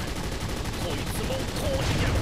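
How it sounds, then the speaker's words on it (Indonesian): Rapid gunfire in Basara 4 Sumeragi on PS5 rattles continuously at a giant boulder, a dense, loud burst of shots lasting a couple of seconds with game sound layered over it. "sekarang ada batu raksasa ya, harus kita tembak terus"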